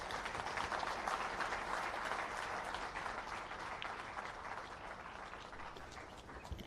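A large audience at an event announcing primary leaving exam results claps in a sustained, dense round of applause, heard at some distance and fairly faint, with no talking over it.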